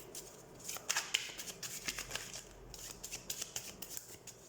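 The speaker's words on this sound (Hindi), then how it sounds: "तो सबसे पहले हम कार्ड शफल कर लेते हैं।" Tarot cards being shuffled by hand, a run of crisp riffling flutters and soft slaps at close range, fairly quiet with no voices.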